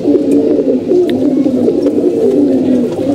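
Pigeons coo continuously nearby, a loud, dense, low rumbling burble that fills the whole stretch with no talk.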